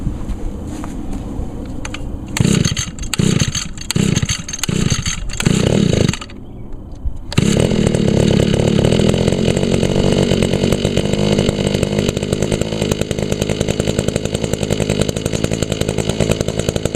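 Echo chainsaw on choke after priming, several rhythmic pull-start bursts followed by the engine catching and running loud and close at a steady high rev.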